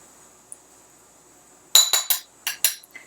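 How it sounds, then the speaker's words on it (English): Shrimp are stirred in special batter in a mixing bowl at home, a utensil knocking against the bowl in a handful of sharp, close clinks in quick succession after near silence. "Give it a good stir."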